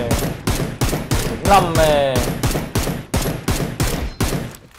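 Gunfire in PUBG Mobile: sharp, evenly spaced shots, about ten in five seconds, loud and close, with people talking over them.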